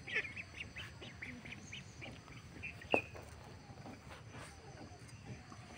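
A flock of ducks quacks repeatedly near someone cutting fish, steady close calls over a low background hum, with faint voices now and then and one sharp knock partway through.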